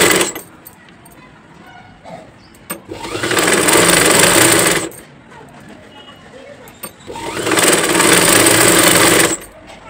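A sewing machine stitches fabric piping in two loud, steady bursts of rapid mechanical whirring, each a couple of seconds long, separated by a quieter pause in which a voice can be heard talking.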